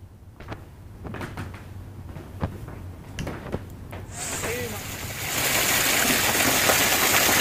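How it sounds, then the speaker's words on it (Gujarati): Heavy monsoon downpour and rushing floodwater in villages of Kalyanpur taluka, Dwarka, Gujarat; scattered knocks and thuds early on give way to a loud, steady roar of rain and flowing water that builds and fills the second half. "રાવલ, ટંકાર, પિયામાં પણ ધોધમાર વરસાદ છે"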